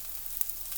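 Tater tots frying in hot oil in a deep fryer, a quiet steady hiss and crackle with a few small pops, close and continuous.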